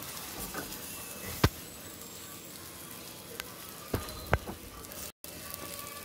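Green chillies frying in oil with salt and turmeric for a green chilli chutney, giving a steady low sizzle with a few sharp pops and crackles, fairly quiet and close, no talking.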